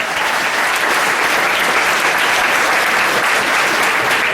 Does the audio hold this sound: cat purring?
no